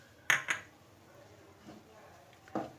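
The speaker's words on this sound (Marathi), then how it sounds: "इथे आम्ही सगळे हे वटाणे घालते आहे" Dried peas tipped into a cooking pot for pav bhaji, giving two quick clattering clinks close by, then a quiet pause and a softer final clink.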